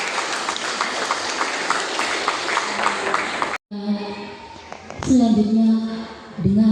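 Steady applause from a crowd at a school oath-taking ceremony for pharmacy assistant students, loud and continuous, then a brief drop-out followed by voices and a louder, livelier burst of noise.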